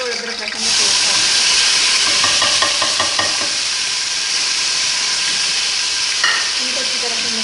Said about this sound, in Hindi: अब हम ये टमाटर और अदरक लहसुन का पेस्ट डालेंगे